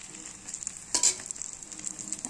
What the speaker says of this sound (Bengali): একটা ভাজা হচ্ছে আর এদিকে ভাজা করে নিলাম।